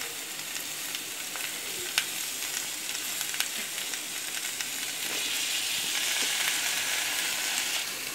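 Soya chaap sizzling in a hot pan as cream is poured in, a loud continuous frying hiss that swells toward the end, with faint stirring scrapes and no talk.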